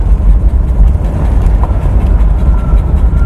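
A Mercedes 450SL with a newly installed fuel system runs rough on its first drive, giving a loud, continuous low rumble of engine and road noise with no voices.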